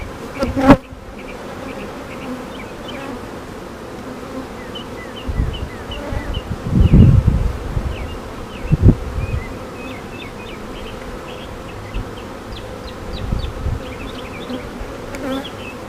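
Honey bees hum steadily around an open hive during a frame inspection, with a few handling knocks and rustles in the middle.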